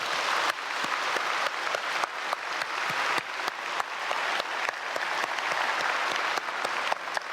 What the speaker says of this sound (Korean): 우리 아이들 위해서 크게 박수로 축복하겠습니다.